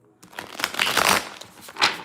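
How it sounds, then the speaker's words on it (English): Tarot cards being shuffled by hand, a run of crisp papery riffles and flutters with a louder burst near the end, close and clear over faint room tone. "Let me shuffle one more time."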